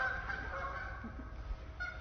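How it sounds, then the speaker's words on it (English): Geese and other fowl at a wildlife center squawk and honk continuously, a dense noisy chorus of overlapping calls at moderate distance with no pauses. "I hope you guys can still hear me over the birds. They're really carrying on over there."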